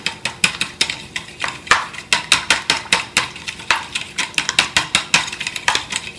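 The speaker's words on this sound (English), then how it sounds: "First, whisk the egg and the milk together." A fork whisks egg and milk together in a bowl, producing a steady, rhythmic series of quick clinking taps, close and clear with no talk over it.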